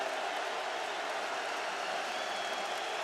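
Football stadium crowd at a 2019 college game in Charlottesville, Virginia, a steady dense roar of cheering and whooping that holds evenly throughout, broad and wash-like with no single voices standing out.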